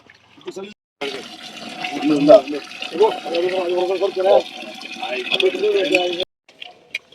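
Water runs and splashes steadily, as if filling a container from a tap, mostly under a person talking close by, then stops abruptly.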